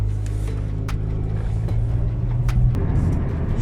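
A Honda car drives along on a test drive after a front brake disc and pad change, a steady low engine and road rumble from inside the cabin, with occasional faint clicks and knocks.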